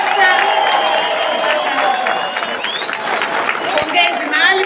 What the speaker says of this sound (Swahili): Tumpigie makofi kutoka kule ametoka conductor.